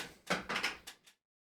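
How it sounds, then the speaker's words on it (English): Creaky chair creaking, a few short rasping creaks in quick succession, close and fairly quiet, then silence. "This chair is super creaky"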